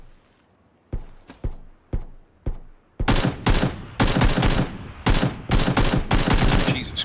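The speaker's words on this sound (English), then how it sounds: "I can't hit a damn thing with this gun" Gunfire in the video game PUBG: several single spaced shots ring out first, then rapid loud bursts of automatic fire follow in quick succession.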